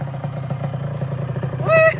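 Yamaha RX King motorcycle engine idling with a steady low putter, then briefly revved with the throttle near the end, close by, while people talk nearby.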